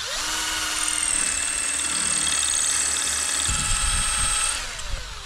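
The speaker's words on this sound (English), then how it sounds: "I think I'm gonna just drill." A power drill whines steadily at high speed for several seconds while building a wooden concrete form, then slows and winds down with a rattling, grinding finish.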